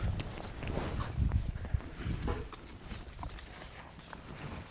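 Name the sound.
horse hooves walking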